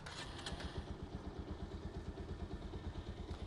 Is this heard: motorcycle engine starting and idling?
yes